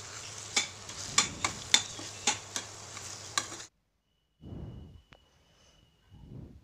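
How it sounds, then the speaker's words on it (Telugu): A spoon stirs tempering into cucumber coconut chutney, making about eight crisp scraping knocks against the vessel over a soft sizzle, close and alone, then stopping abruptly into near silence with a few soft rustles. "ఈ పోపు మొత్తం కూడా ఈ పచ్చడిలో కలిసేంత వరకు బాగా కలుపుకోవాలండి"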